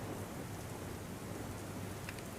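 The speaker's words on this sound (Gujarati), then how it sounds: "સાથે કમોસમી વરસાદ વરસી રહ્યો છે" Steady unseasonal rain in a strong wind on the coast at Diu, a dense, even wash of noise filling the whole stretch with no voices.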